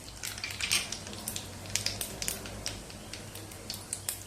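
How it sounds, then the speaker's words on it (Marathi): Cumin and mustard seeds drop into very hot oil over a low gas flame, giving a soft, steady sizzle with scattered crisp pops and crackles throughout, fairly quiet and without talking. "तेल खूप गरम आहे. गॅस अगदी बारीक करायचा आणि जिरे मोहरी घालूया."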